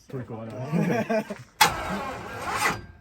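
Damaged truck engine, blown while mudding on 44-inch Boggers, cranked by the starter in one long labored burst after someone speaks, the whirring grind straining without catching.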